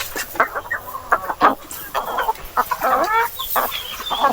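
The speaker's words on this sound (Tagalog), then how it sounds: "Papakainin ko muna yung ating mga Peking duck at saka native na manok." Native chickens clucking at feeding time on a small farm, many busy close clucks and squawks in overlapping irregular bursts, with faint farmyard noise beneath.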